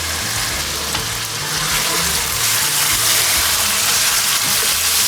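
Tomatoes going into a simmering potato and eggplant curry, giving a loud, steady, close sizzle and bubbling hiss that swells slightly toward the end, with no talking over it.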